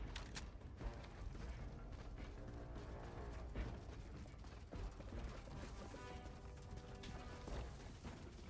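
Mechanical clicking and ratcheting of a weapon being reloaded in the game Helldivers, set against a dense, continuous bed of loud game action and crashes without a clear break.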